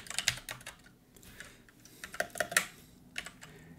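Someone types code on a computer keyboard in short uneven bursts of crisp, close clicks and clacks with brief pauses between, and no talking over it.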